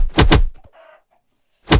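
Minecraft chickens give two short, loud clucks up close, with a brief quiet gap between them.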